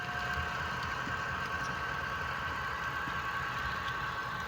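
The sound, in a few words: HO scale model train switch engine running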